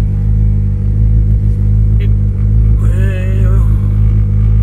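A Mitsubishi 4G63 engine with ID 2000 injectors and a crank trigger cold-starts at mid-40s coolant temperature, a loud close rumbling crank that fires and catches into a rough running idle, with a brief rising whine partway through.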